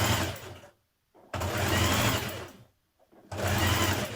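A sewing machine stitching a hem on a Simplicity 1461 tunic whirs in two loud, steady runs, separated by a short silent pause and followed by a third run, all close by.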